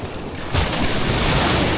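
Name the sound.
strong sea waves around a boat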